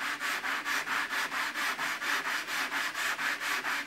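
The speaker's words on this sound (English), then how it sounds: "you can actually rub it together and it will actually, you know, remove foam by just rubbing the two pieces together" Two pieces of foam rubbed together to shape them make a soft, regular scuffing stroke repeated about four times a second, close and quiet, with nothing else heard.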